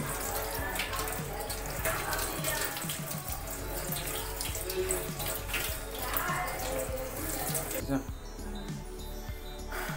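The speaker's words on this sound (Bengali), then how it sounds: "এটিকে আমরা হালকাভাবে একটু ধুয়ে নেব, একটু হালকাভাবে ধুয়ে নেব।" Tap water runs steadily as a Pureit Classic Germkill kit is rinsed under it, a continuous close splashing stream while a person talks over it.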